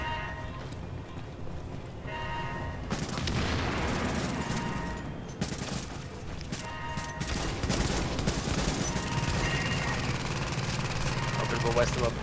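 Grenade explosion amid heavy gunfire in the video game The Division during a power plant mission, dense rattling shots and bursts running nearly continuously, loud and close.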